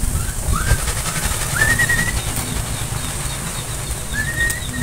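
Taiwan birds, pigeons or doves, flap and flutter in a dense close rustle that runs throughout, with a few thin whistling calls rising over it.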